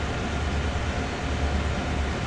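Steady, dense rumble of a train running in the Train Sim World 2 game, loud and continuous with no breaks or talk.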